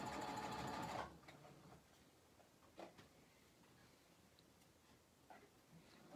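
A sewing machine stitching a pillow case whirs loudly for about a second, then stops, leaving a quiet room with a few faint clicks and handling noises.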